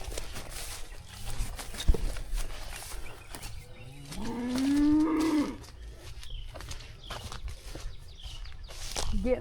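A protective cow guarding her calf outdoors lets out one long, loud moo midway, with footsteps, rustling and handling noises around it.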